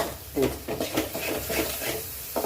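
Fish curry masala for a sardine kulambu stirred in a pan over a high flame, making repeated scraping swishes and soft sizzling in a steady rhythm, close and fairly loud.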